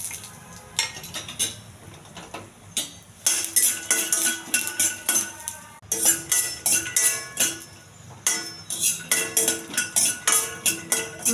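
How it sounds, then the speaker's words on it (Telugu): Peanuts roast in a little oil in a pan, with a metal spatula or spoon repeatedly scraping and clinking against it in quick, rhythmic bursts, close up and fairly loud. "పల్లీలు కొంచెం దోరగా ఎగించాలి."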